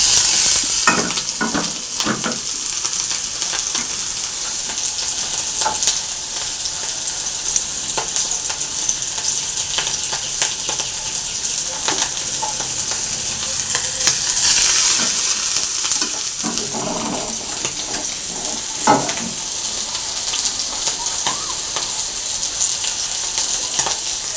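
Squeezed mushrooms frying in oil in a kadai, a loud continuous sizzle and hiss with scattered scraping stirs, close by and without voices.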